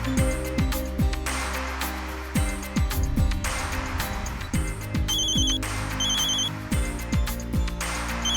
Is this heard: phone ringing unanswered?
yes